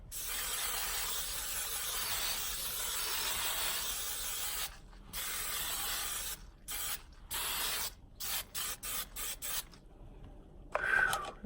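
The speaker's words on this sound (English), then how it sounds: "we got good old Suave hairspray." Suave hairspray hisses close up as it is sprayed onto a face for setting. A long continuous burst is followed by a series of short, choppy spurts. No one speaks.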